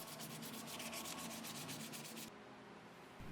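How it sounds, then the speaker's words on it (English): A knife handle is sanded through the grits on a small 1x30 belt grinder, giving a close, steady rasping hiss with rapid pulsing that shifts to a softer, smoother rub partway through. "here I'm just working the handle up in grits, starting at 120 and working towards about 320."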